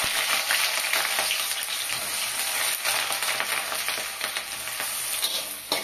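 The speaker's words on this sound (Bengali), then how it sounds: "তেল গরম হয়ে গেছে, আমি পেঁয়াজ কুচিগুলো দিয়ে দেব।" Chopped onions hit hot mustard oil in a kadai for chicken keema, producing a loud, bright, bubbling sizzle that stays close and continuous with light stirring and no speech.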